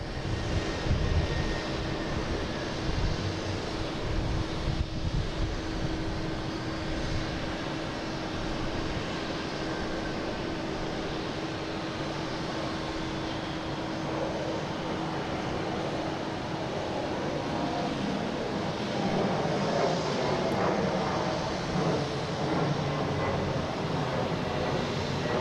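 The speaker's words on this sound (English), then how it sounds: "next taking off is Delta, heading to Baltimore, Washington International" A Delta Embraer E-175 jet bound for Baltimore-Washington takes off from Boston Logan, a loud, continuous engine roar with a steady low hum and a rising, shifting whine as it climbs away, with no voices.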